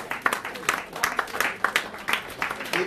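Audience clapping at a Muhammad Mosque of Europe event with Minister Farrakhan, a short burst of uneven, fairly sparse claps with distinct individual hits over a low room murmur.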